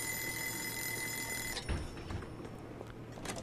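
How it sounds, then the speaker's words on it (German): An alarm clock in the video game Joe's Diner rings steadily with an electronic tone, then cuts off and leaves a low background hum and faint knocks. "Der Wecker kommt uns gelegen, weil es in der Nähe ist."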